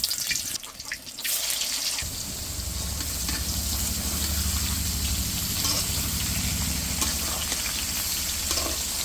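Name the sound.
raw jackfruit pieces frying in oil in a wok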